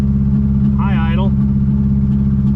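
A 1981 Volkswagen Rabbit engine holds a steady high idle, a loud continuous close drone, while a voice speaks briefly over it.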